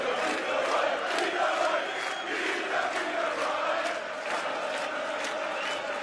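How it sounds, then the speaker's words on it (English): Large darts arena crowd at the 2017 European Darts Championship cheering loudly and steadily throughout, a dense wall of shouts and roars with no pauses. "getting the crowd involved"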